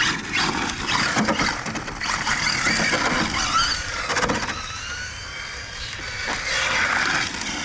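A Hobao GTB RC car whines past and its tires squeal as it brakes, a loud, close, rising-and-falling screech and motor hum on a hard surface, with no talk.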